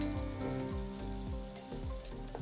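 Turmeric and garam masala fry in hot oil for a fresh pigeon pea curry, a steady close sizzle broken by regular, rhythmic stirring strokes, with no talking.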